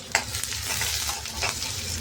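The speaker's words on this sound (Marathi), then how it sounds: "कांदा, आता छान परतून घ्यायचं." Chopped onion and curry leaves sautéing in an oil-filled pan for a wild katole vegetable dish: a steady close sizzle with scraping stirring strokes, no talking.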